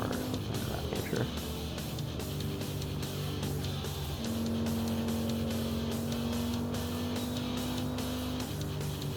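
Cars race in a VR driving game on Quest 3, a steady engine drone with a rising whine that climbs and holds, moderately loud with other motor noise behind it.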